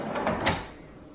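Storage drawers in a DIY Toyota Tacoma rear seat delete build slide along their runners, with a brief, close rumbling glide that fades out within about a second.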